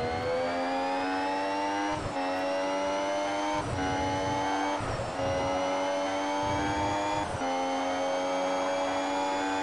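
Formula 1 race car engine in the F1 Mobile game at the Mexico circuit, a loud high-pitched whining drone that dips briefly at each gear shift, steady and close.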